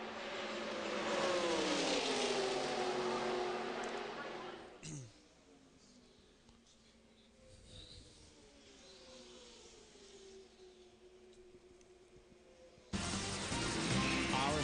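A Chevrolet stock race car at a superspeedway roars past, a loud engine whine that fades into quieter distant engine noise before another car's roar returns, with a commentator talking over it.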